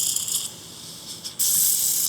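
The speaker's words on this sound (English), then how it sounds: "I just started having some issues with my spray lubricant here. So it doesn't really spray out, but it will still drip all over this just fine." An aerosol can of spray lubricant aimed at an RV slam latch sputters in short hissing bursts, then gives a stronger, steadier spray near the end.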